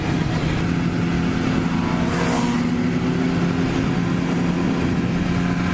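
A sport motorcycle rides close by on the road, its engine a loud, steady roar mixed with wind rush, briefly swelling as it draws alongside.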